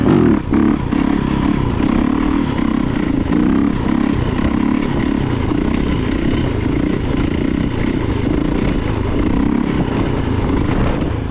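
A Yamaha YZ450FX dirt bike engine revving hard through a wheelie in a field, a loud, close, sustained droning roar that holds steady with slight rises and falls in pitch.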